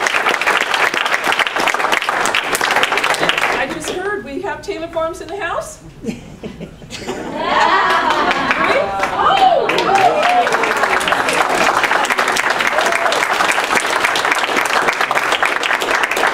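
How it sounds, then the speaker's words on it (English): Loud applause from an audience at a school district board of trustees meeting, with clapping and light chuckles running steadily on both sides of a brief spoken interruption in the middle. "So let's give them a big round of applause."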